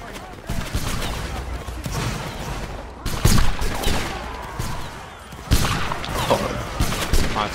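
Musket volleys crack in a Napoleonic Wars battle game, dense overlapping shots rolling in waves with sharper bursts around three and five seconds, under a steady wash of battlefield noise.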